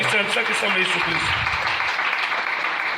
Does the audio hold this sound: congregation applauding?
yes